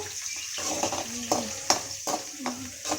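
Curry leaves and onion frying in hot oil for a bitter gourd curry, a steady close sizzle with soft stirring scrapes and a few sharper spatters, no voices.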